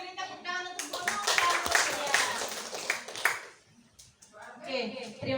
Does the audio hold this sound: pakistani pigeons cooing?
no